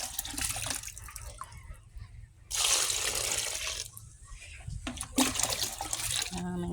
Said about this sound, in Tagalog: Ito guys, dadagdagan ko na ng tubig.